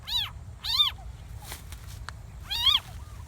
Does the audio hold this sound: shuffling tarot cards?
no